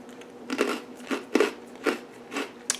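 Sharp crunchy bites into a sweet, salty pretzel-like baked snack, four or five distinct close crunches at a slow, even pace with no talking.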